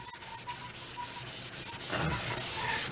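Wood stain is rubbed hard into a wooden piece by hand in a workshop, a close, steady scrubbing with rhythmic back-and-forth strokes that grow louder and faster toward the end.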